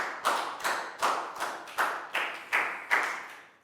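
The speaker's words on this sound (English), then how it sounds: "High five and a big round of applause for Dan, guys." Hands clap in a classroom during an English lesson, eight or so distinct, evenly spaced claps from a small group, fairly close and moderately loud with no talk over them.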